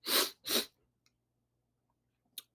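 Two quick, forceful sneezes in a row, followed by near silence and a short faint sniff at the end.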